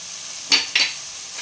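Ginger, garlic and chili paste with cumin hits a hot pan in a home chicken-and-potato curry, giving two short, close bursts of sizzling over a quiet background.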